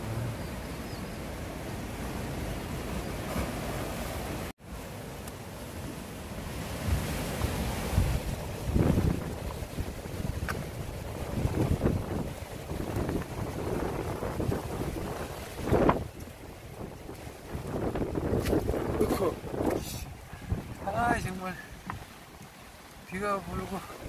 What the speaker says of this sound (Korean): 비가 오고 바람이 불어서 그냥.